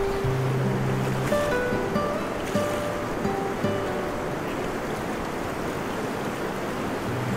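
Ocean waves wash steadily onto a fine-sand beach at a secret camping spot in Infanta, Quezon, a continuous broad surf roar with faint tonal hums layered in and no speech.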